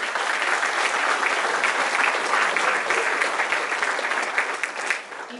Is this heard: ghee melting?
no